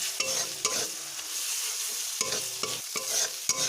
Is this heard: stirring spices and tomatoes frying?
yes